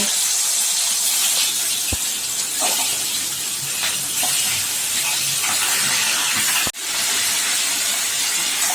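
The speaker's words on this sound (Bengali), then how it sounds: "এবার যে তেলে আলু ভেজেছিলাম সেই তেলেই এই চিকেনটা দিয়ে একটুখানি ফ্রাই করে নেব।" Chicken, 600 grams, fries in oil left over from frying potatoes, a steady broad hiss across the whole stretch with a few faint clicks and one sharp knock near the end.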